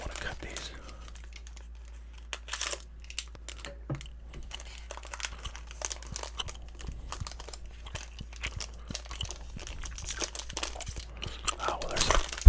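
Sports card packs being opened up close, wrappers crinkling and tearing with soft scattered crackles and taps that build toward the end, alongside quiet speech.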